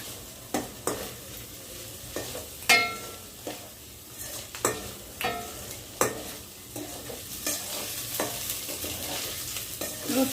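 Tomatoes frying in a pan for chicken pulao, a continuous close sizzle broken by repeated scraping and clanking strokes of a spatula stirring against the pan.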